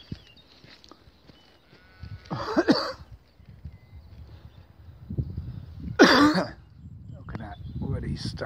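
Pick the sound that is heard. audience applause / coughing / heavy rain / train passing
coughing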